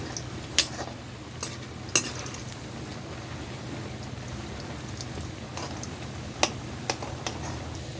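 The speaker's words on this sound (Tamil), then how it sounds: "இது நல்லா ஆயிலில் பார்த்திங்கன்னா நல்லா டீப்பாக வறுத்து எடுத்துக்கலாம்." Pieces of elephant foot yam (senai kilangu) deep fry in oil with a constant soft bubbling hiss, broken by a few sharp clicks of a utensil against the pan.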